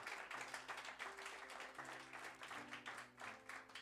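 A church congregation applauds together. The clapping is faint and distant, runs steadily for a few seconds and sits over a low sustained hum.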